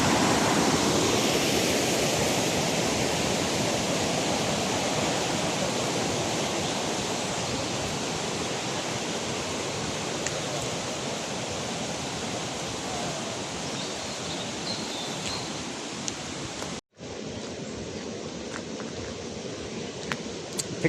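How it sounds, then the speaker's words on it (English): The Ouseburn river flowing through an urban park, a steady broadband rush of water like a weir or rapids, loud and close throughout with no voices and a brief dropout near the end. "The river, by the way, is called the Ouseburn."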